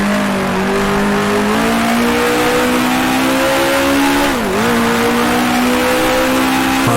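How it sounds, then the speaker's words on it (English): A 1966 Formula 1 race car in Grand Prix Legends drives at high revs with a steady, loud engine drone, then the pitch dips briefly as it drops down to second gear before climbing back. "Down to second gear."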